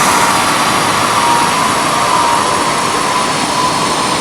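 A Suzuki Swift Sport Hybrid held at full throttle on a chassis dyno gives a loud, steady, broadband roar with a high whine riding on top, continuous and unbroken for the whole stretch, with no voices.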